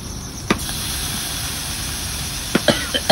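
Chopped tomatoes hit a hot pan during outdoor hut cooking in Rajasthan, giving a steady, loud sizzling hiss with a few sharp utensil clicks and clatters near the end.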